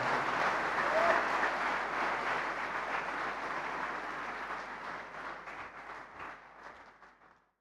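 Sustained applause from a large audience at an international summit on ethics and leadership in sports, greeting the sports minister of Haryana; a dense, steady wash of clapping that slowly fades toward the end.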